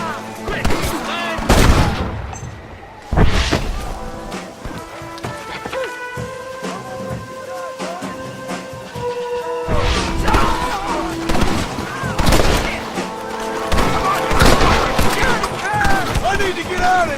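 Gunfire in a western film: several sharp shots crack out amid a busy scene with music, some bursts close and loud, others scattered, mixed with shouting voices.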